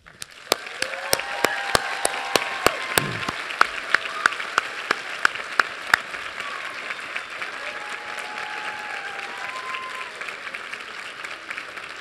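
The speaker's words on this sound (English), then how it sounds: "please join with me, and with your applause, let your teachers know just how much you appreciate the hard work" A commencement audience applauds its teachers, steady dense clapping filling the hall for the full stretch, a few sharper claps standing out early on before it settles into an even, sustained ovation.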